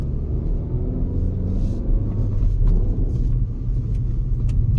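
A car at night grinding up a steep, landslide-damaged hill road, its engine giving a loud, steady low rumble that strains under load, with a gear change and light rattles from the cabin.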